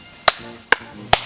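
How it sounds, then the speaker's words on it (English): Three sharp, separate hand claps outdoors in the woods, spaced about half a second apart, each a crisp close slap with a quick decay and no talking. "All right, give me a good clap."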